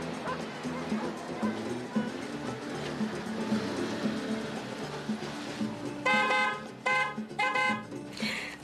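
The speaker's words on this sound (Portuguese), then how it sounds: "Já conhece até o barulho do carro, hein, mãe? Nem precisava da buzina." A car pulls up outside a house and sounds its horn in several short honks near the end, while a dog barks and whimpers and low voices murmur in the background.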